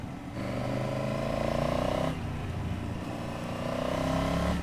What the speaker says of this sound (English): I hope you're getting that airbox and exhaust note.